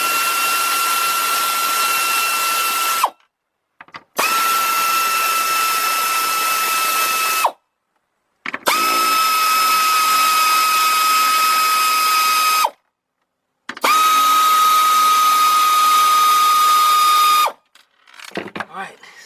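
Power tool whirring steadily on bolts of a BMW 328i during fuel pump work, four sustained bursts of about three to four seconds each separated by short pauses, close and loud.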